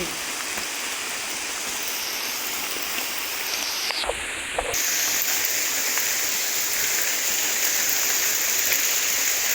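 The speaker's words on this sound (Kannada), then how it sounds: "ಮಳೆ ಮಳೆ ಮಳೆ ಮಳೆ ಮಳೆ ಫೈನಲಿ ಮಳೆ" Steady rushing patter of rain, broadband and continuous, with a brief dip midway before the downpour resumes slightly louder; no talking.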